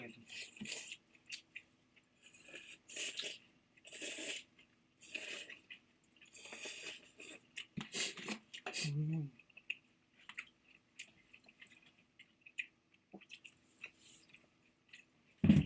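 Close, soft wet chewing and slurping of ramen noodles and katsudon, in intermittent bursts of mouth sounds with brief quiet gaps, no talking.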